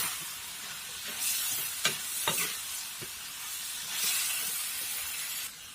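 Potatoes for aloo dum fry in a hot pan, a steady sizzle with a few sharp crackles and stirring scrapes, close by with no talking.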